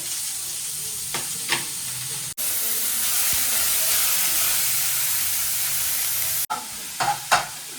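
Steady hissing sizzle of onions frying in a pan for mutton liver pepper fry, with a few clinks of stirring at the start and end.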